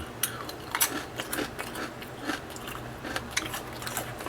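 Quiet, irregular crisp crunches from someone biting and chewing Crayon Shin-chan black sesame snack crackers up close, with small clicks in between and no speech.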